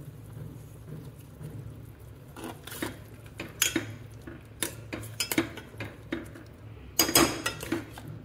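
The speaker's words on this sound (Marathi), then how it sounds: "आता कुकरला झाकण लावते" Metal clanks and rattles of a lid being fitted onto a pressure cooker, several sharp knocks in bursts, close by.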